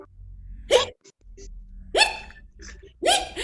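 A child imitates hiccups with his voice, producing three sharp, loud gulping hiccup sounds spaced about a second apart, each a short vocal burst with quiet breaths in between.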